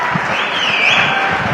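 Crowd at a political rally in Solapur applauding, a short stretch of steady clapping from many people, loud and close, with a raised voice or whistle-like tone riding over it.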